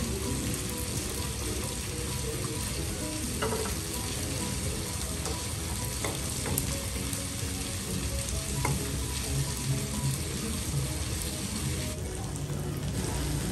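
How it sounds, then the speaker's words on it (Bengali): Paratha and naan frying one after another in oil in a home kitchen, a continuous soft sizzle and crackle with occasional faint clinks, steady and close throughout. "এইভাবে একে একে সবগুলো পরাটা নান ভেজে নিচ্ছি।"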